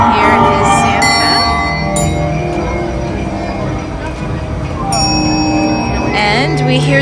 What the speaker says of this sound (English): we hear the Christmas bells ringing and chiming